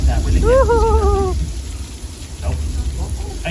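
Artificial rain and rushing water pour down on the Universal Studios flash flood set, a steady wet hiss under excited shouting from a nearby voice.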